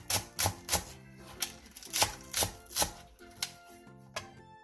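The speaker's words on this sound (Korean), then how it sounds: "대파 2분의 1개를 어슷썰게 해주세요." A kitchen knife slicing half a green onion diagonally on a cutting board, about a dozen sharp close taps in an uneven quick rhythm with brief pauses, no talking.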